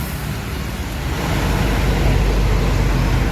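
A large bus roars past on the road, a loud broadband rumble that builds and stays heavy with engine and tyre noise.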